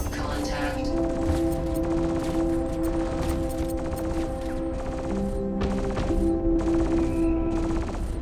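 Starfighter guns in Star Citizen rattle off in steady, rapid volleys during a dogfight with a nippy little pirate ship, layered over constant engine hum and game music.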